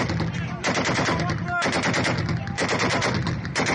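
Bursts of automatic gunfire ring out during armed clashes in northern Syria, rapid loud rattling volleys separated by short pauses.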